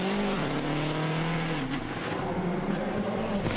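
Rally cars at the Monte-Carlo Rally roar past with a loud, droning engine note that drops in pitch as they go by, close and continuous with no talking.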